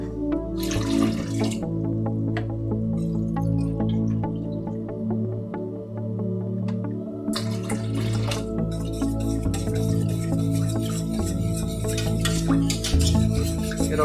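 Water runs from a tap and is poured into a pot of Campbell's tomato soup on the stove, a steady close splashing stream with bursts of trickling and a clink partway through, and no talking.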